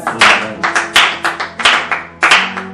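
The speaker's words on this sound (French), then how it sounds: "Est-ce qu'on peut acclamer le Seigneur?" A church congregation claps together in loud, sharp bursts, a quick uneven rhythm of hand claps close by with no talking.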